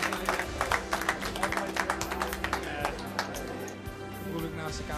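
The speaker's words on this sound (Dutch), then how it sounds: "Een applaus voor Robert Kalka" Audience at a WPT National poker tournament in a Valkenburg casino applauds a player, steady clapping with taps throughout, moderately loud and mixed with an announcer talking over it.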